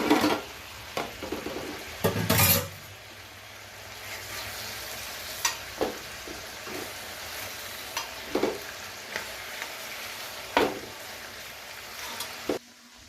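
Chicken frying in hot oil for a spicy chicken curry, a soft steady sizzle broken by several sharp scrapes and clatters of stirring in the pan, with no one speaking.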